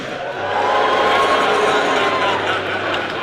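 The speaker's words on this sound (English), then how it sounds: "can we get a big cheer for Eddie Hearn" A live audience at a Dragons' Den-style event cheering for Eddie Hearn, a sustained wash of crowd cheers and shouts swelling after a brief pause and holding steady, fairly close and loud.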